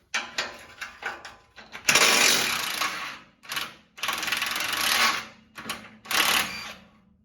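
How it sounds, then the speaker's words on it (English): A ratchet wrench loosening 14mm bolts on a Toyota Tundra transmission, rapid clicking bursts in several separate runs with short pauses between, close and crisp. "Remove these two 14mm bolts here."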